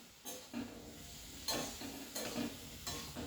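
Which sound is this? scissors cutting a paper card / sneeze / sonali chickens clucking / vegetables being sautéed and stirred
vegetables being sautéed and stirred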